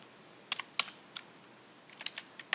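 Values are keyed into a calculator in a scattered run of faint, light clicking taps, with quiet gaps between them.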